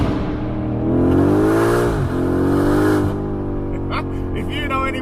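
A BMW M5 F90 engine revs hard inside a tunnel, a loud rising roar with a brief dip near the middle as it shifts, then settling into a steady drone with faint rustling near the end.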